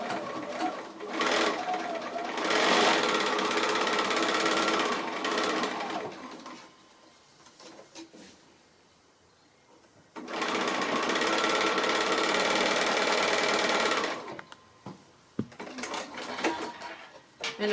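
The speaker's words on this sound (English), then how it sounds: "So back to the sewing machine and we'll do this line." A sewing machine stitches quilt fabric in two loud, rapid bursts of running needle chatter, separated by a short quiet pause, with faint handling clicks at the end.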